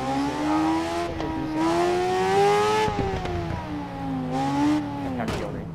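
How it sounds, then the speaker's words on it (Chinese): A motorcycle engine in the Ride 3 racing game revs with a loud, sustained harmonic drone, its pitch climbing and sagging as the throttle opens and closes, with short popping blips near the end. "这个回油，放油门那个声音好爽哦，噗噗噗噗噗噗噗"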